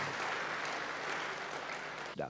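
A congregation in a church service claps together in a steady wash of applause, fairly faint and continuous, cut off at the end by a voice.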